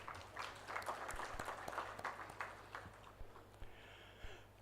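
Applause from a crowd at a national conference on steel in infrastructure, a faint, distant wash of many hands clapping that fades toward the end.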